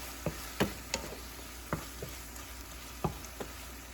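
Seasoned ground beef with beef seasoning and a pinch of ground cumin sautés in a pan for Salvadoran chiles rellenos, a quiet, steady sizzle broken by several sharp scraping stirs and taps at irregular intervals.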